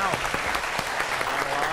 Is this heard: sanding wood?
no